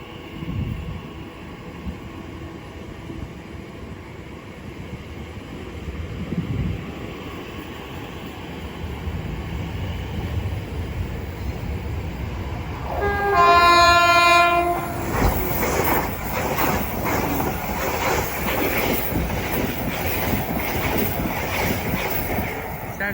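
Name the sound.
Class 345 train departing Shenfield station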